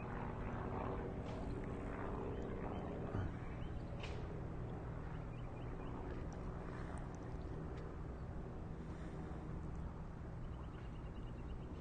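Airplanes from the local Mastic (Brookhaven Calabro) airport drone overhead near a Long Island Rail Road station at Mastic-Shirley, a faint, steady, distant engine rumble filling the whole stretch with no voices.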